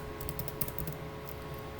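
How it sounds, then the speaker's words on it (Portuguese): Fingers tap out a quick, irregular run of soft clicks on a computer keyboard, close and faint, with no talking. "Estou digitando aqui na última linha."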